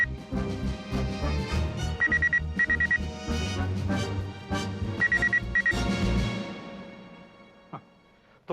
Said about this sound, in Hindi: घंटी तभी भी बज रही है।